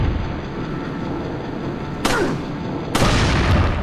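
Two sharp, loud gunshots crack a second apart over a dense, rumbling background in the Resident Evil 4 video game.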